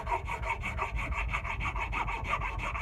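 A rasp files the upper part of the eye of an axe-like tool head in a steady rhythm of rough scraping strokes, about five per second, close and continuous.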